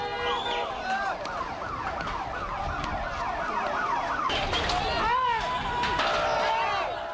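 An ambulance siren wails steadily in a busy street, its rising and falling tone repeating at moderate distance under a constant crowd and traffic noise.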